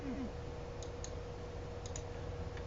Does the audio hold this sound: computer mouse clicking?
yes